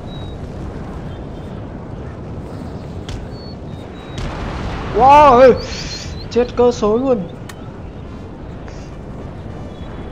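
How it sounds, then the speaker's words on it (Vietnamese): Artillery booms and battle rumble in Napoleon Total War, a continuous gritty roar with heavier bursts midway, while someone talks excitedly over the top. "Ôi, pháo đời cuối của nó có khác."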